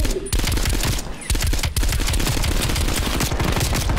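Dense, continuous automatic gunfire in Call of Duty Black Ops Cold War, rapid rattling bursts with a short lull, loud and close with no talking.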